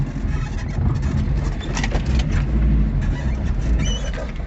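An off-road car engine idles close by in a steady low rumble with a slight uneven throb, continuous and fairly loud throughout, with no talk.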